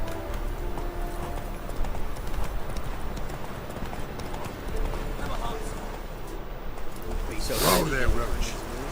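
Hooves of the horse Roach clip-clop in The Witcher 3 video game, a steady trotting rhythm running through most of the stretch alongside ambient game sounds, with a brief swell of noise near the end.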